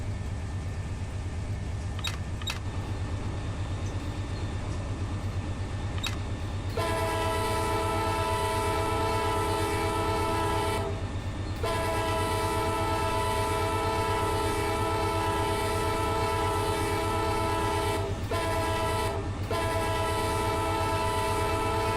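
A running train rumbles steadily close by while its horn sounds in long sustained blasts with brief breaks, loud over the continuous rolling noise.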